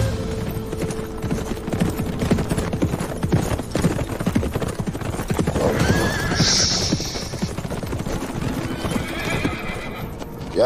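Horses trotting with rapid, dense clip-clop hoofbeats close by, broken by a loud whinny partway through, amid a busy outdoor period-drama scene without speech.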